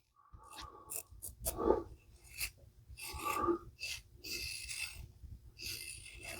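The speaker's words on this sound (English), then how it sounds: "I'm doing the little buffing pass there" A Blackland Vector safety razor making a light buffing pass over skin, giving a run of soft, close raspy strokes in uneven bursts, with no talk.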